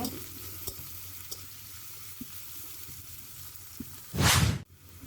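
Onion and chilli fry in a pan with a steady close sizzle and occasional light utensil taps, then a loud brief whooshing burst near the end.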